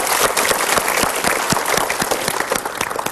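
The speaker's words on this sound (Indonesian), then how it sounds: "Kita berikan tepuk tangan dulu" A room full of people claps together, loud and dense, with sharp individual hand strikes standing out through a continuous wash of applause that barely eases.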